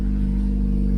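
A turbocharged Toyota Corolla fitted with a swapped six-speed manual transmission idles steadily while warming up, a constant low engine hum with no revving, close and loud throughout the short stretch.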